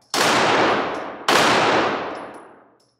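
Two loud, close shots from a Glock 34 Gen 5 9mm handgun fired at a target, each a sharp crack with a long, fading reverberant tail and no talking.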